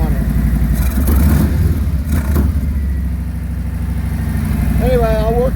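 A 2020 Harley-Davidson FLHTK with a Stage 1 tune idles steadily with a deep, loping rumble that stays loud and close throughout, while a voice talks over it.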